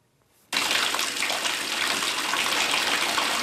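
A bathtub fills from the tap with water for a warm bath. After a brief quiet start, a loud, steady gush of running water begins and pours on unbroken to the end.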